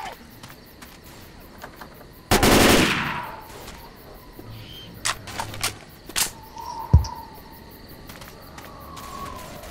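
Rifle fire in the zombie shooter Left 4 Dead 2 crackles in a dense burst of rapid shots, followed by scattered single reports and game clatter against a quiet ambient background.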